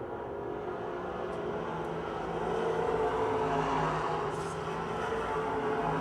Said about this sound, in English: Closing on Kane as they race down the backstretch into turn number 3